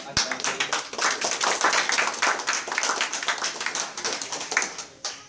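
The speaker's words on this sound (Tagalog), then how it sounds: "Pumalakpak nga yung mga nasa base." Audience at a church service clapping steadily and briskly for about five seconds, a dense, close round of many hands with a brief voice underneath.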